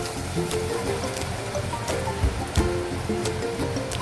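Soaked rice tips into a pot along with its soaking water for Jain khichdi, a soft, continuous splashing pour with a few small plops, fairly quiet and without talk.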